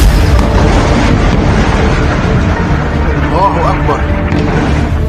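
Bomb explosions from bombardment in Lebanon, a loud, continuous rumbling low-end roar with dense booming texture throughout, under a news voice-over in speech.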